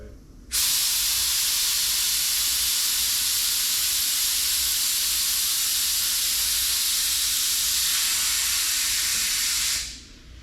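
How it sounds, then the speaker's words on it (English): An air compressor for a bagged Astro van's air suspension runs as a loud, steady hiss that starts abruptly, holds for about nine seconds, then fades out. "Why did the air compressor kick on?"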